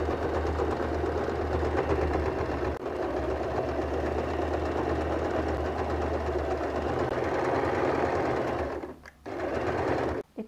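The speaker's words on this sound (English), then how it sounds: "just start sewing a 1/2 inch stitch" A sewing machine stitches a zipper into a bag made from recycled jeans, running in a loud, steady mechanical whir with rapid needle chatter that stops briefly near the end and then restarts.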